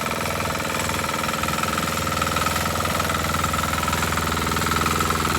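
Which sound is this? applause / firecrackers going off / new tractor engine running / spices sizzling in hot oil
new tractor engine running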